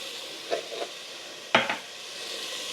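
Minced garlic hitting a hot pan for ham and bean soup, a soft steady sizzle broken by a few brief stirring scrapes, close and moderately quiet.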